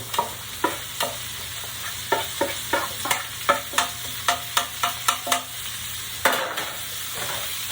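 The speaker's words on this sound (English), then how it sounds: "So what we're going to do now is we're going to throw the onions in." A spoon clacks against a pan in a quick, regular rhythm as onions are stirred. Under it runs a soft, steady sizzle of frying. The sounds are close by, with no talking.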